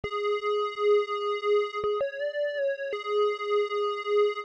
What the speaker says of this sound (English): This next sound is called Mono Square.